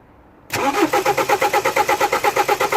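A BMW 318i E90 engine cranks for a compression test after a moment of quiet, a loud, close starter churn with a steady pulsing rhythm of about five beats per second that never catches.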